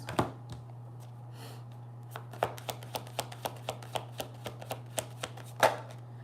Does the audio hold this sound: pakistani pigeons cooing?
no